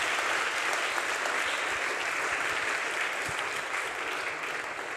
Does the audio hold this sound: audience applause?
yes